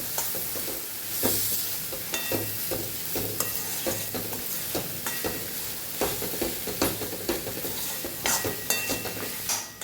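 Leftover cooked rice stir-fried with tomato in oil makes a steady close sizzle, broken by frequent rhythmic scrapes and knocks of a spoon against the pan as it is mixed, with no talking.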